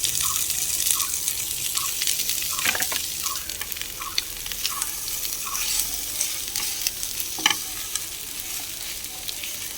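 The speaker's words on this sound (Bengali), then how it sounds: "নাড়াচাড়া করে মিশিয়ে নেব" Spoon stirring boiled, mashed potatoes with chili powder in a spiced frying pan for Bengali egg chop, a steady sizzle under rhythmic scraping strokes repeating about every half second, close and moderately loud, with no talk.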